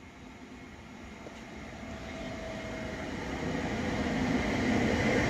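An R60 passenger train runs on the Warsaw–Gdańska line toward Tłuszcz. Its broad, steady rumble grows gradually louder as it approaches. No voices are heard.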